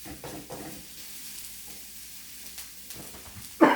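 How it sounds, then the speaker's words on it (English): Jalapenos frying in oil for shakshuka give a soft, steady sizzle with light stirring scrapes, ending in a sudden louder clatter. "I'm going to let the jalapenos cook a little bit."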